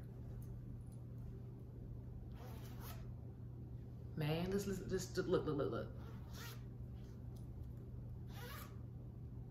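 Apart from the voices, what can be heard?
zipper on a Colombian faja compression garment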